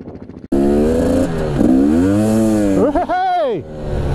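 A Husqvarna enduro motorcycle revs and pulls away on a hard enduro off-road ride, its engine loud and close, rising and falling in pitch through several throttle blips.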